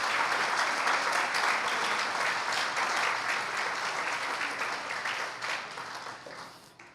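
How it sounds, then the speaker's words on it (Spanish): A church congregation claps loudly in praise to God during a Spanish-language sermon, dense sustained applause that gradually fades toward the end. "¿Qué te parece si le das fuerte el aplauso a Dios?"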